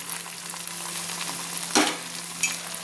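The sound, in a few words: tomato paste frying in oil for chicken curry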